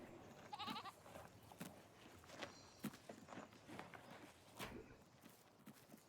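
Goats in the Farming Simulator 19 video game on the Dalton Valley farm map, with short bleats and light clip-clopping hoof steps scattered over a busy, moderately loud game ambience.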